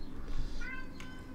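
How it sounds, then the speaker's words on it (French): A house cat meows once at close range, a short rising-and-falling meow over quiet room noise, with faint game sounds in the background. "C'est le chat qui dit bonjour."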